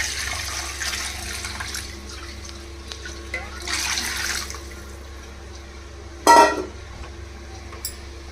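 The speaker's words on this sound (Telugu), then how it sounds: "6 గ్లాసులు వాటర్ పోసుకుంటున్నాను" Water poured into a black kadai of rice for biryani, several separate splashing gushes at close range with quiet gaps and a louder final pour near the end, no speech.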